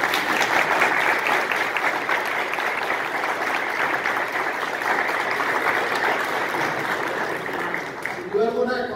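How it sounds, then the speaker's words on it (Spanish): An audience at a Toastmasters meeting gives sustained, dense applause that holds steady and loud for most of the stretch before a voice begins speaking near the end. "pido por favor un fuerte aplauso"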